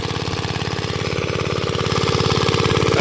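A fitter machine engine runs for irrigating a maize field on a Gujarat farm, a loud, close, steady chugging with a fast even pulse that grows slightly louder.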